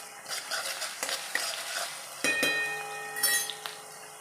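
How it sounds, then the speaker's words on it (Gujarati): Crushed garlic and cumin fry in a pan with a steady, close sizzle, while a spoon stirs and scrapes with occasional light clinks against the metal. "પછી આવશે જે આપણે લસણ વાટેલું છે જીરું સાથે"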